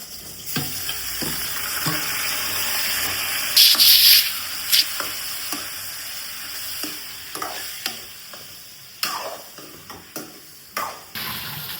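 Pieces of chicken sizzle in a hot pan while a utensil scrapes and stirs intermittently, with sharp scraping bursts over a steady frying hiss.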